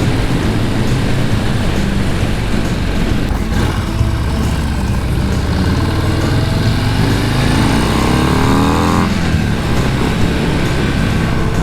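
A 2023 Harley-Davidson Breakout with the 117 engine is ridden at speed, giving a loud, steady engine drone mixed with wind rush. A rising tone climbs near the end as it accelerates.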